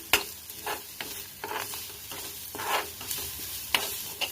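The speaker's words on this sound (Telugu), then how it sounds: "క్యారెట్ కూడా బాగా దగ్గరికి వేయించుకుందాము" Carrots are stir-fried in a pan for a quick masala snack, giving a soft background sizzle broken by repeated scraping and tapping strokes of a spatula at an uneven rhythm.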